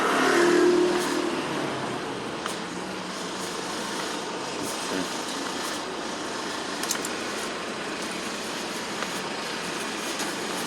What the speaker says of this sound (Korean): 야 이거 퇴근 시간 되니까 엄청 차들이 돌고 도네